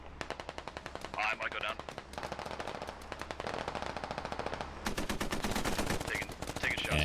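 Rapid automatic gunfire bursts in the tactical shooter game Squad, sharp repeated cracks through most of the stretch, while a player speaks briefly over the shooting.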